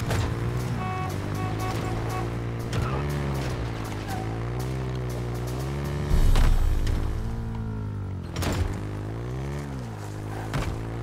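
A Mongoose all-terrain vehicle in Halo Infinite drives along, its engine humming and rising and falling in pitch, with a couple of louder bumps or thuds midway and soft speech at times.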